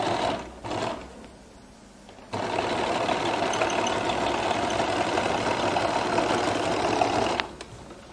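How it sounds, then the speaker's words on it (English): A sewing machine stitches a flared skirt up close, with a few brief starts, a pause, then a long steady mechanical whir of several seconds before it stops. "And I'll sew here."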